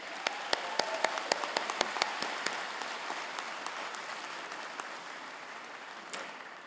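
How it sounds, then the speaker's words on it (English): An audience at a university convocation ceremony applauds the MacEwan University Big Band, a faint, distant wash of steady clapping with a few sharp, louder claps near the start that fade as it goes on. "please join me in a round of applause for the MacEwan University Big Band"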